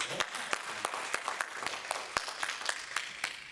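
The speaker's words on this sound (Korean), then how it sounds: "한번 격려 박수 한번 보냅시다" During a Korean church Sunday service in Tampa, the congregation gives encouraging applause, sparse distinct claps standing out over a light, scattered patter of hands, with no talking.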